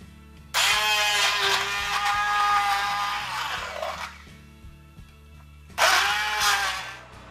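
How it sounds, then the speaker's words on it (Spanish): A hand blender whirs loudly as it purees gazpacho ingredients with vinegar, olive oil and salt, running in a sustained burst of several seconds, pausing, then starting again for a second shorter run. "Y ahora con la batidora lo molemos todo muy bien."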